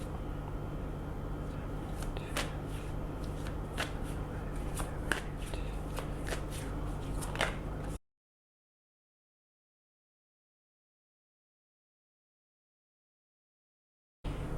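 Tarot cards being shuffled by hand, a rapid run of crisp riffling snaps and flicks over a low steady hum, lasting several seconds before the sound cuts to silence.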